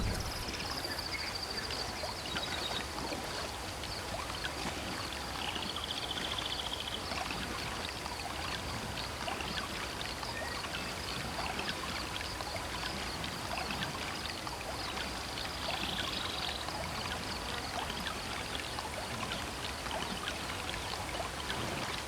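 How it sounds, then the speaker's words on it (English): Steady flowing and trickling stream water in the video game Ancestors: The Humankind Odyssey, a continuous, even wash of water with no talking heard. "I no longer see the yellow flashing as I'm drinking the water"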